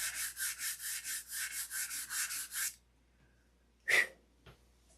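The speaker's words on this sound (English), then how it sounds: "I'm sanding this out" Hand sanding of shrinking dope on a surface, about a dozen quick, even rasping strokes in a steady rhythm, then a pause and a couple of brief rubs, close and fairly quiet.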